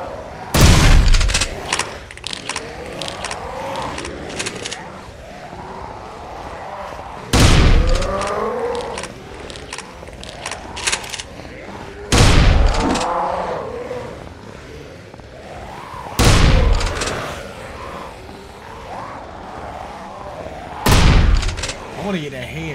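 Shotgun blasts in the PS5 game Blood Waves boom out about every four to five seconds, each heavy shot followed by a quieter stretch while someone talks throughout.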